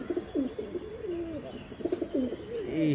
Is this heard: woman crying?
no